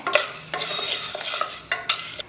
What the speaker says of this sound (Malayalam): ഇതിലേക്ക് നമ്മൾ റോസ്റ്റ് ചെയ്ത് വെച്ചേക്കുന്ന പരിപ്പ് ഇട്ട് കൊടുക്കാം. ഒന്ന് മിക്സ് ചെയ്ത് കൊടുക്കാം നെയ്യിൽ തന്നെ.